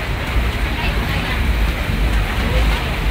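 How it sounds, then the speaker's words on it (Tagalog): Rain falls steadily over the Big Lagoon in El Nido, Palawan, during a kayaking trip, a dense, even hiss with low rumbling that runs unbroken from start to finish, fairly loud and close. "Pero delicious ang ulan."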